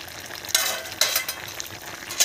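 Chopped tomatoes drop into mixed vegetables frying in a pan, giving a loud sizzling burst followed by steady crackling and stirring, with two more sharp sizzle surges as the pieces hit the hot oil.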